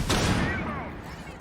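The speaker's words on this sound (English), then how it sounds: "Stun grenades go in." Stun grenades going off in a competitive team video game match: a single sharp, loud blast fades out over about a second with a thin ringing tail.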